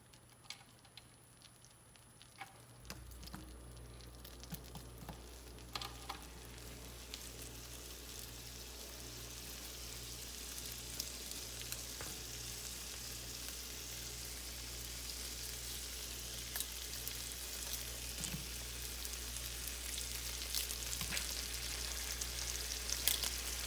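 A half stick of butter melting in a pan on a stove turned to high, starting after a quiet moment and building into a steady crackling sizzle that keeps getting louder and busier.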